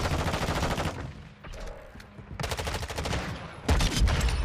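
Long-range rifle fire in Modern Warfare 2 comes in repeated rapid bursts of loud cracking shots, separated by short quieter gaps and ending with a heavier close blast.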